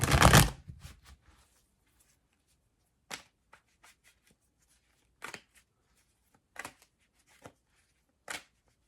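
Tarot cards being shuffled: a loud riffle at the start, then sparse, separate card snaps and slides at irregular intervals, close and otherwise quiet.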